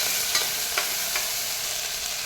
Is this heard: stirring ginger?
yes